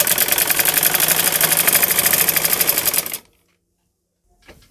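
Close, loud sewing machine running steadily for about three seconds while stitching salwar fabric next to buckram, its rapid rhythmic needle chatter stopping abruptly into near silence.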